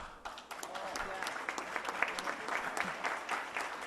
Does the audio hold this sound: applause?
yes